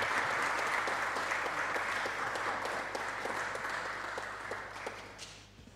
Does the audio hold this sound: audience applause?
yes